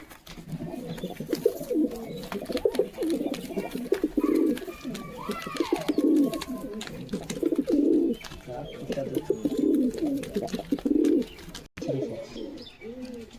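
Pigeons kept for sale as fancy flying birds coo repeatedly at close range in steady, overlapping rolling phrases, with faint human voices now and then underneath.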